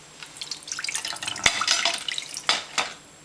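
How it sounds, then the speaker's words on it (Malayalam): Water poured into a clay cooking pot while preparing Kerala fish mulakittathu, heard as a soft, close splashing trickle with a few sharper drips and splats, quiet and without any talking. "അതിന് തന്നെ ചട്ടി എടുത്ത് കുറച്ച് വെള്ളം ഒഴിച്ച്"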